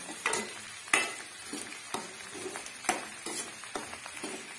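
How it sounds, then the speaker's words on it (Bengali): Young green jackfruit and potato frying in a pan, with a steady soft sizzle broken by repeated scraping stirs of a spatula roughly once a second, close and without talk. "আর এইদিকে দেখো এঁচুড়ের আলুটা ভাজা হচ্ছে।"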